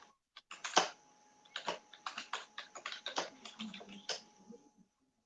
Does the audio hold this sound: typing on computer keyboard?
yes